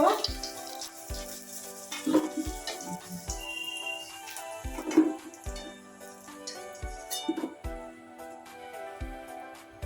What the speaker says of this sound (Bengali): সুন্দর করে মাছগুলো ভেজে নিয়েছি